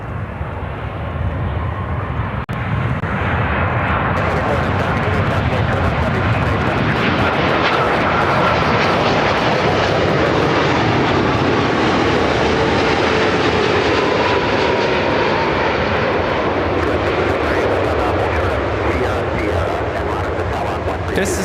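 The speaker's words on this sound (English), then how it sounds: "Another Dreamliner arrival." A Boeing 787-10 Dreamliner airliner arriving at Chicago O'Hare, its loud, steady jet roar building and sustained throughout, with broadband engine rumble filling the whole stretch.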